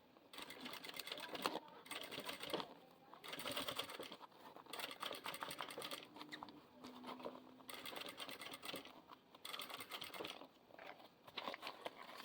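Sewing machine stitching fabric with a size 21 needle, uneven bursts of rapid clattering stitches starting and stopping, close and fairly quiet, with some speech mixed in.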